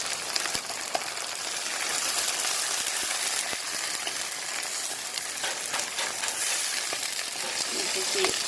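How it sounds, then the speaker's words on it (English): Tomatoes go into frying vegetables for a desi pasta dish, bringing a soft continuous sizzle with scattered spoon scrapes and light clicks as the mix is stirred, fairly quiet and close. "So what I'm going to do now is add the tomatoes to it, and then just stir it in."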